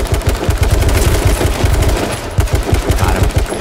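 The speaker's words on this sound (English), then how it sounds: "There's another guy shooting at me." Rapid automatic gunfire from H1Z1, a battle royale video game, rattles in dense, loud bursts of repeated shots, pausing briefly before the next volley, with no talk over it.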